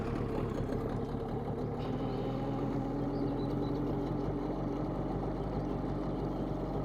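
Tohatsu 9.8 outboard motor running steadily on a boat on the Western Dvina river, a constant droning engine hum with no breaks, fairly loud and close, no voices.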